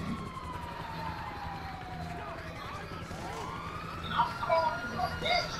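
Police car siren in Grand Theft Auto V, a wailing tone sweeping down and then rising again over steady engine and game noise, with fainter chirps near the end.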